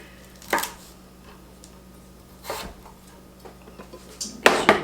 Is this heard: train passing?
no